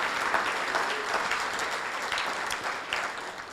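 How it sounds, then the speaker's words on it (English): Lunch guests at the Polo Grill give a round of applause, a steady mid-sized patter of clapping that carries on evenly throughout. "Let's also give a round of applause to the Polo Grill"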